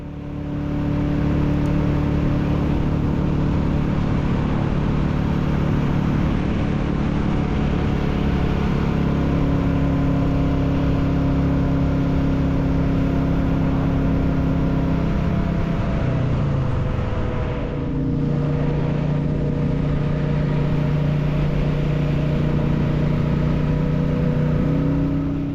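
Royal Enfield Classic 350 motorcycle riding along roads on Skye toward Broadford, a steady mid-pitched engine drone with wind rush, holding constant throughout with a brief dip in pitch partway as it slows and picks up again.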